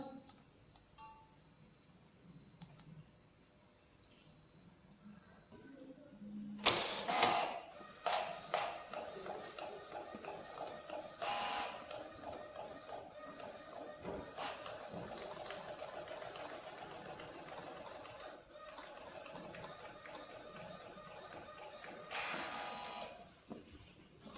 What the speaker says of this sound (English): We can now send that to the printer.